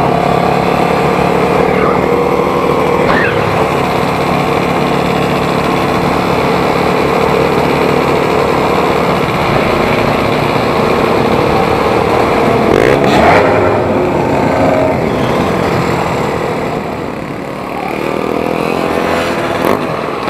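Yamaha DT200R motorcycle engine revving steadily close by for about twenty seconds, a loud continuous drone with small rises in pitch and a brief dip near the end.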